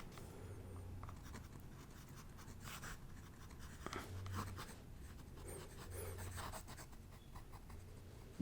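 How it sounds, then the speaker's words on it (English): A pen or pencil writes by hand on paper at close range in a quiet ASMR-style setting, giving soft, continuous scratchy strokes with small pauses and lifts across several seconds. "Let me write something down here real quick."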